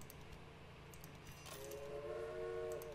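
Trains run on a rail line in the video game Railway Empire, Great Britain and Ireland scenario. A steady low rumble plays, then a sustained whistle-like tone enters halfway through and holds to the end.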